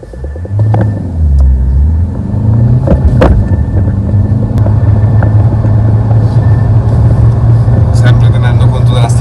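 A remapped car accelerates on a wet road during a timed run, its engine rumbling loud and close with rising pitch through the gears, while people talk over it.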